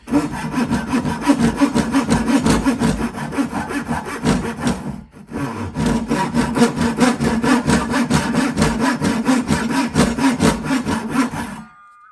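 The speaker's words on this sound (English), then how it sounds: "Let's try the rip cut here." A Dewalt single-edge pull saw rips along the grain of a board in steady, rhythmic rasping strokes, loud and close, with one short pause midway before the cutting resumes and stops.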